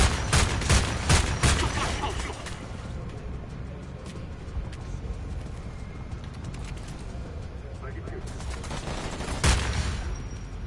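A newly bought gun fires in the shooter Homefront 2, a loud rapid fusillade of automatic gunshots at the start that eases into steadier shooting, with another burst near the end and a voice speaking in the background.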